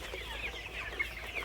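Sonali chickens, a flock sick with an unknown illness after a cold snap at 38 days old, cluck steadily with soft overlapping calls close by and no voices.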